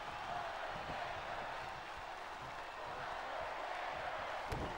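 Wrestling arena crowd at WrestleMania XIV cheering for the Undertaker, a dense, distant roar of many voices that holds steady with a brief sharp impact near the end.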